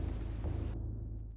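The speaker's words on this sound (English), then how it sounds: "Rain's going insane again." Rain and a low thunder rumble from the video game Eternal Darkness roll briefly, heavy low-end rumbling with steady rainfall hiss that cuts out abruptly partway through.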